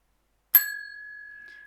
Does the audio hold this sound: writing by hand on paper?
no